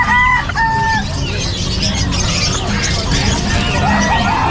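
Chabo Bantam chickens at a Bocaue pet market cluck and crow in short bursts, a few clear calls near the start and more scattered toward the end, over a steady crowd murmur with voices talking.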